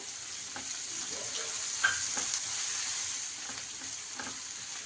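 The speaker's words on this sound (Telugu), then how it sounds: "ఆనియన్స్ కొంచెం వేగితే చాలు" Sliced onions and green chilies fry in a pan for an egg masala curry, giving a steady close sizzle with light crackles throughout.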